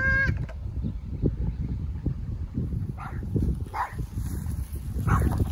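A German Shepherd barks a few times at a distance, short muffled woofs spaced apart over steady outdoor rumble and wind noise.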